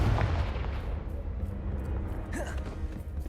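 A Confringo blasting spell in Hogwarts Legacy lands as a brief explosive boom past the midpoint, set against a rumbling, busy game background.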